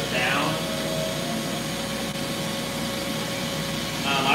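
A vacuum jig runs steadily in a workshop, a continuous broadband whoosh with a faint tonal hum, loud and unchanging for several seconds with slight swells at the start and end.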